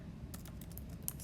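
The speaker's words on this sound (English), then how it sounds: "I'm gonna start typing" Quiet typing on a computer keyboard, a quick irregular run of soft clicks and taps starting after a brief pause, close by with no talking.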